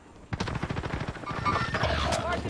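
Rapid automatic gunfire from a video game rattles in a dense, sustained burst of shots, loud and close, with a voice speaking over parts of it.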